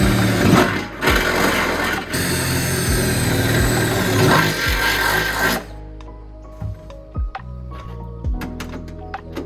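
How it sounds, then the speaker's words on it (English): A power drill whirs as it bores holes through the back seat of a BMW E46, running steadily for several seconds, then cutting off, followed by scattered clicks and small knocks as the drilling ends. "I'm about to drill the holes through the back seat right now"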